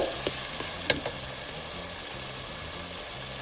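Chopped tomatoes hitting hot oil and frying for Indian tomato rice, a steady close sizzle with a few light clicks of stirring and a faint low hum underneath.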